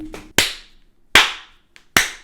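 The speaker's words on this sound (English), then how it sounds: "That deserves a fucking slow clap" Three single, sharp hand claps spaced slowly apart in a deliberate slow clap, each crisp and close with a short decay and silence between, plus a faint softer tap.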